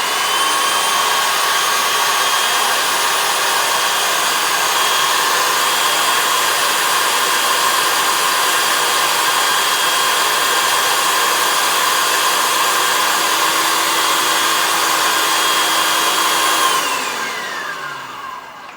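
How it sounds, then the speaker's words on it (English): A blender on puree setting whirs loudly and steadily through a Swedish meatball mixture, holding one constant high-pitched drone close by before spinning down at the end, with no voices. "you're just going to hit puree until it all blends together"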